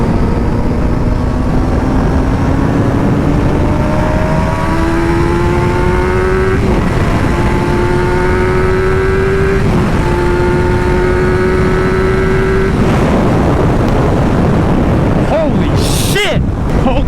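A motorcycle fitted with a Yoshimura exhaust and a Power Commander tune accelerates hard through several gears, its engine note climbing and dropping at each shift, under heavy wind rush.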